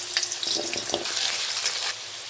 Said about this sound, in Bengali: এবার আলুটা ভেজে তুলে নেব।